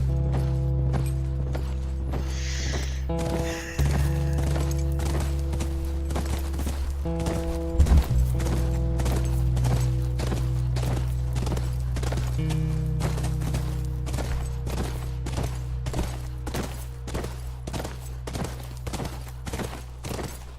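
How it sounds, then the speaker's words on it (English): Horse hooves clip-clopping in a steady rhythm in The Last of Us video game, with a neigh near the start, ongoing game music and ambience underneath. "That's our horse."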